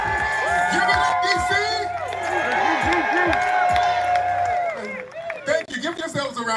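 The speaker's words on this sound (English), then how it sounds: "Give yourselves a round of applause, DC." A crowd at an outdoor rally in Washington, DC cheers and applauds in a sustained roar with shouts and whoops, then falls to scattered noise, with voices close by.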